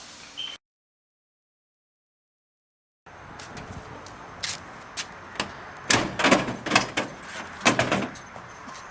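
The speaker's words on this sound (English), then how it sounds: "I'm pretty sure that was the glass." Glass pane dropping loose inside a car door on an LS-swapped Miata kart build, heard as a cluster of sharp clattering knocks and rattles after a gap of silence, fairly close and loud.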